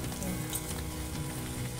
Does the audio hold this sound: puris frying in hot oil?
yes